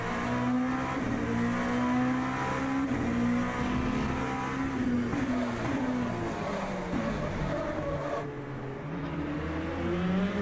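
A race car engine in Le Mans Ultimate drones and revs steadily near at hand, pitch rising and falling through gear changes with no pause, briefly easing off near the end.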